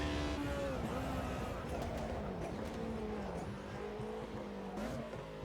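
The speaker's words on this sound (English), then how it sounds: "They've got that BMW exhaust note, that rasp" A BMW M3 DTM touring car in a racing sim at the Nürburgring revs and shifts with a raspy, buzzy exhaust note, pitch climbing and dropping between gear changes, with a voice faintly under it.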